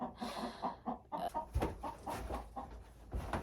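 Chickens cluck inside a chicken coop, a busy cluster of short, uneven calls overlapping close by, with occasional louder squawks and faint shuffling beneath.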